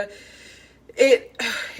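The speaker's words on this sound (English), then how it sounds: "it's a very dry cough" Two short, dry coughs in quick succession, close and fairly loud, following a quiet stretch of faint background noise.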